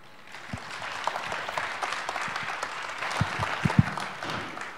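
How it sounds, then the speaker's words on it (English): A conference audience applauds a speaker at a testing event, a steady wash of clapping lasting several seconds with a few sharper nearby claps standing out toward the end, no voices over it. "let's give a big applause to Michał"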